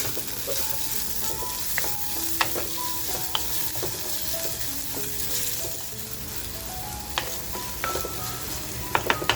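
Chopped onion frying in a pan for a spicy bombil and potato dish, with a steady close sizzle under scattered clinks and scrapes of a spoon stirring, no talk.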